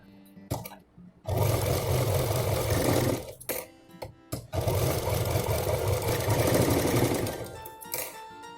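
An electric sewing machine stitching cloth pieces for a handbag, running in loud steady bursts of rapid needle rattle separated by short pauses and clicks, close to the microphone with no talk.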